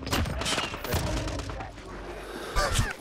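Gunfire from a Swiss K31 sniper rifle in a video game: a few sharp, loud reports spaced roughly a second apart, amid busy background game noise.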